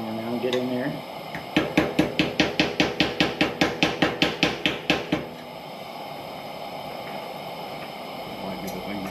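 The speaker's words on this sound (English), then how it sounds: "I'll get that ball peen hammer now and get in there." About fifteen quick, evenly spaced metallic taps ring out from a ball peen hammer striking a Coleman Northstar lantern, close and sharp, followed by a low rumbling background.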